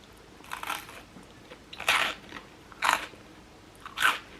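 Several crisp bites into avocado and cheese toast, four distinct crunchy chews spaced about a second apart, close and fairly quiet with no talking.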